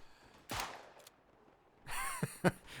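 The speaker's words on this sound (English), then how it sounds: "50 meter shot with a black powder revolver" Shots from a Smith & Wesson No. 3 black powder revolver in the World War I shooter game Tannenberg ring out as a few sharp, loud reports with quiet gaps between them and brief echoing tails.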